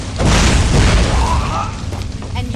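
Flame atronach being summoned in the fantasy game Skyrim: a loud whooshing, booming burst of fiery magic that swells in the first second, then a crackling, rumbling tail fading over the next two seconds.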